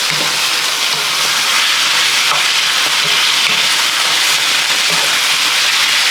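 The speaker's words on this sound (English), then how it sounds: "give this a very light sear because the meat is thinly cut" Thinly sliced beef sears in hot onion-flavored oil for Filipino bistek, giving a steady, loud sizzle and hiss throughout with a few soft stirring scrapes and no talking.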